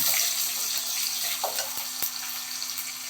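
Onion and green chillies sautéing in a pan for a greens stir-fry, a steady soft sizzle with a faint hum and a couple of brief clicks from stirring.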